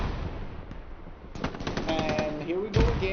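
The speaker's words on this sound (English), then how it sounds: "He's laying down with the machine gun" Machine gun bursts and scattered gunfire crackle in the Hell Let Loose video game, rapid shots growing denser and louder toward the end while a voice talks over them.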